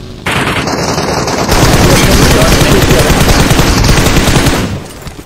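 Loud, rapid automatic gunfire in PUBG Mobile, a sustained close burst of shots that intensifies after a second and runs nearly the whole time before cutting off, with faint voices beneath.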